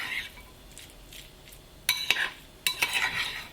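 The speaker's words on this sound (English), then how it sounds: "Use your spoon to break up any chunks of avocado that you might find in the bowl" Spoon stirring and mashing chunky guacamole in a bowl, avocado pieces being broken up; a few scraping, clinking strokes come in two clear bursts after a quiet start, close and moderately loud.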